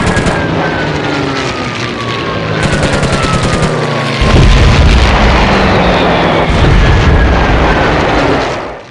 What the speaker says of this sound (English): Bombs are dropped with delayed fuses to enable the low-flying fighters time to get clear of the target before they explode.